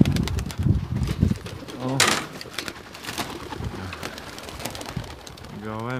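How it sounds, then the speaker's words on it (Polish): Homing pigeons coo near their baskets during a training flight release. Several soft, rolling coos rise over patter-like background noise, and voices talk over them. "przecież mamy pocztowe gołębie"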